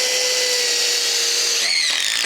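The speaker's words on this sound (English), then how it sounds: "I'm going through, pre-drilling the holes, and we're using bugle screws to hold them together." A power drill runs steadily while pre-drilling holes in timber fence rails fixed to posts, a continuous close whine that cuts off near the end, leaving a brief rattle.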